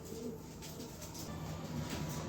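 Pigeons, including a female bird offered at a pigeon club sale, cooing softly in a low repeated murmur amid faint background noise, with no talk.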